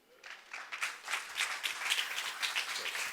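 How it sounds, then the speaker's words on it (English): Applause from a conference audience greeting the moderator of a startup investors panel, building from quiet to a steady patter of many hands clapping, moderately distant in a large hall. "please welcome him with a big applause"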